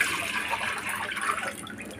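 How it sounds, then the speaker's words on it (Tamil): Milk poured into a pot for sheer khurma, a steady splashing liquid stream heard close up for about two seconds with no talk. "ஒரு லிட்டர் பால் எடுத்துருக்கிறேன், அதை ஊற்றிக்கலாம்."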